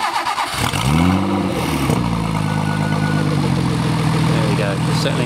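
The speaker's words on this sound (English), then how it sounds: "Rich will now fire it up for us. It does sound rather nice." A twin-turbo, twin-chargecooled DeLorean engine cranks and fires up around the one-second mark, revs briefly, then settles into a steady, deep idle, close and loud.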